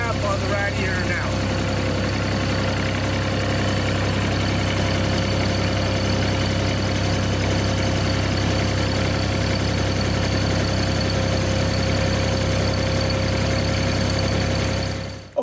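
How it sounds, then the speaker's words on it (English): Bobcat 463 skid steer loader engine idling steadily after a coolant refill and thermostat replacement, a close, continuous low rumble with faint knocking that holds unchanged throughout. "the coolant is circulating throughout the engine"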